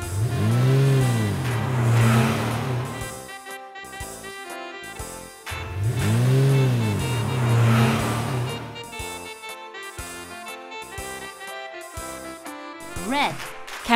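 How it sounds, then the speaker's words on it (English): A red race car engine revs hard twice in loud, rising and falling bursts, then a quicker rev near the end, all over upbeat music. "Race car."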